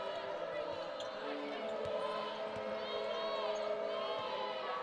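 Crowd murmur and scattered cheering fill a women's college basketball arena during a Gonzaga versus Loyola Marymount game, a steady roar with a few ball bounces, whistles and squeaks.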